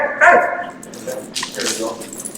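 A pet dog named Tyche gives a short bark or yip during a recall training session, followed by softer whimper-like sounds and light background noise, with no speech over it.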